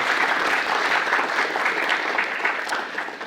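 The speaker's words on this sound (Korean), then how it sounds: "모든 교수님들 또 참석자 여러분들께 서로가 큰 박수 한번" Professors and attendees at an academic award ceremony's opening give a sustained round of applause, an even, dense patter of many hands heard at moderate distance.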